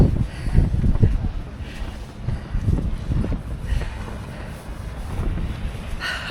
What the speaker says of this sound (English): It's actually kind of windy.